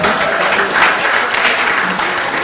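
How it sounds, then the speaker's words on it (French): A film premiere crowd in Chicago applauds a guest named Alex, dense continuous clapping at full loudness throughout, close and uninterrupted with no voices over it. "alors on applaudit Alex"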